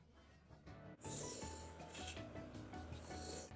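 A fast saw bites through material with a steady rasping, filing-like cut, loud and close, starting abruptly after a quiet second and running continuously with bright high-pitched hiss.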